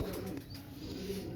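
A female French pigeon of a teddy breed pair, paired with a domed male, gives a brief, low, soft coo close by, faint against background hum.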